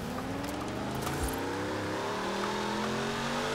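A Hot Wheels car in the Forza Horizon racing game, its engine droning steadily with a rising, layered revving tone that sweeps upward, loud and continuous throughout.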